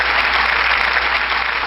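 Applause follows a short music snippet during a podcast interview, a steady broadband wash of clapping that holds at an even level for under two seconds, with no voices over it.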